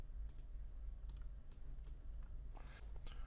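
A computer mouse clicking in Houdini 3D software: several crisp, quiet clicks scattered across a few seconds, some in quick pairs, over a low steady hum.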